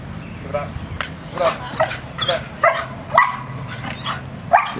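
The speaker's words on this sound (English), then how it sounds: "Get so excited for the ball, he can hardly bark." A black German Shepherd lets out a string of short, strained, excited barks and whimpering yips, about eight in quick succession and close by, eager for a ball.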